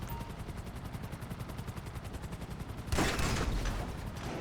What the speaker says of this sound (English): you're going to need to shoot the lock open